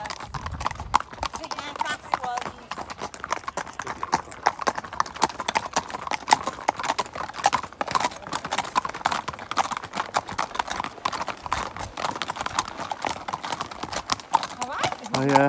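Horse hooves clip-clop steadily and briskly on a road as a group of horses rides together, the rapid hoofbeats continuous and close, with people talking at times.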